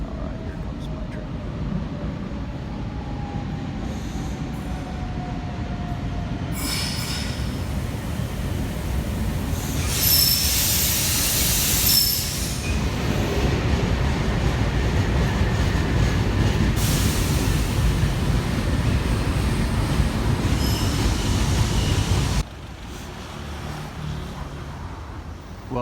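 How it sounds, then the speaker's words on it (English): A train pulls into a station in Rome, its rumbling wheels and rail noise building loudly over about twenty seconds with bursts of bright screeching, then cutting off abruptly near the end. "here comes my train"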